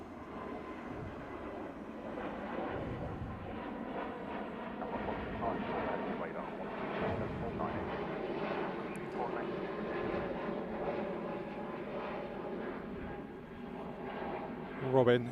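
A jet airliner departing Heathrow Airport, a broad distant engine roar sustained throughout with a faint rumble, heard under someone talking steadily.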